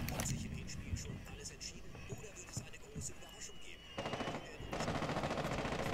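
Rapid bursts of gunfire in Rainbow Six: Siege crackle in the mix alongside muffled speech, with a louder volley near the end.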